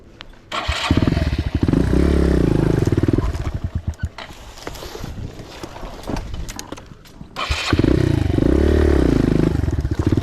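A Suzuki DR 200 big bore motorcycle revs hard and pulls away close by, then its engine note drops and clatters as it moves off, with a second loud rev near the end.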